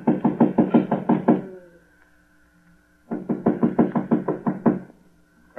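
Two quick bursts of loud, close knocking on a locked door, roughly eight firm blows each, separated by a pause of a couple of seconds, with no voices.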